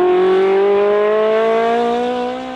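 A Ferrari 360 Challenge Stradale with its 3.6 litre V8 pulls along a winter road, the engine note rising steadily in a smooth, loud, close-up drone with rich layered harmonics before easing slightly at the end.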